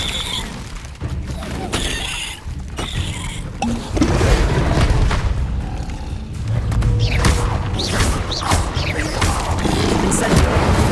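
The Expelliarmus spell in Hogwarts Legacy bursts out amid loud game noise, with booming impacts, crashing and shattering effects piling up over a dense, continuous soundscape as a voice calls out the spell.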